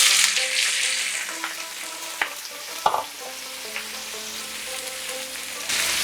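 Prawns sizzle steadily in hot mustard oil over medium-high flame, a dense continuous crackle with a few sharper pops and spoon knocks, close and fairly loud throughout with no voices.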